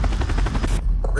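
Rapid bursts of chopper gunner fire in Modern Warfare on PS4, a dense rattling stream of shots over about a second with a brief drop near the end, loud and close, with game voice chatter underneath.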